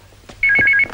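A telephone rings with a bright electronic warble, a short burst of pulsed double tones that starts partway through, loud and close, after a quiet room with a soft thump.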